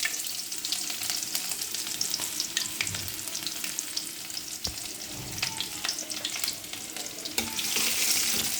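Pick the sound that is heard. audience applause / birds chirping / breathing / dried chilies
dried chilies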